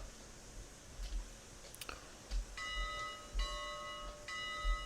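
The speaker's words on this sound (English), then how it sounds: "It has a higher pitch bell." Faint, high-pitched locomotive bell dings in the game RailRoads Online ring several times at a steady interval over low background noise.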